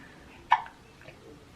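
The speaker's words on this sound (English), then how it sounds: "This boy has the hiccups all the time." Single newborn baby hiccup, a short sharp near hiccup with a tiny softer follow-up, in an otherwise quiet room.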